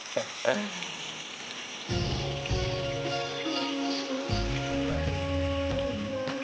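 Marinated chicken for a Mughlai dum chicken dish is poured into hot oil, setting off a sudden, loud, steady sizzle that keeps frying while people talk nearby.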